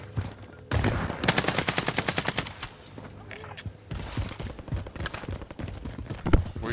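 Rapid bursts of automatic gunfire crackle through a video game firefight, with fast rhythmic volleys, brief lulls and more shots, heard up close and loud.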